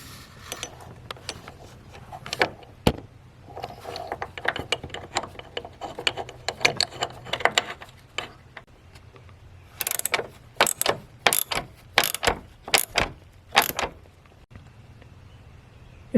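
A bolt is driven back into place on the battery of a GMC Sierra or Chevy Silverado. Quick ratchet clicks rattle in irregular bursts, then turn into sharp, evenly spaced clacks near the end, close up and without talk.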